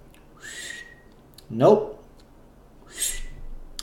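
A person whistles in imitation of Zorro's whistle to his horse, a few short separate attempts at close range with a brief spoken sound between them.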